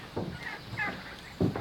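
Farm turkeys gobble in a few short bursts, moderately close, with rough warbling calls spaced across the moment.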